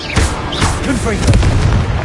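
A Confringo fire spell blast from Hogwarts Legacy, a burst of booming impact with crackling, whooshing noise sustained over about two seconds, loud and dense against game background sounds.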